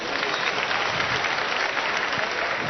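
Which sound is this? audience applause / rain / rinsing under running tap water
audience applause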